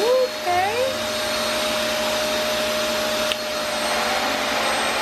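A Revair vacuum hair dryer runs on high heat, a loud steady whooshing roar with a high whine, while a voice briefly speaks over it at the start.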